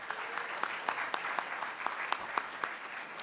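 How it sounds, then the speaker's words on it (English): Audience applause at a spelling bee between politicians and press, a moderately distant patter of individual claps with sharp peaks over a steady wash, no talking on top. "A round of applause, please."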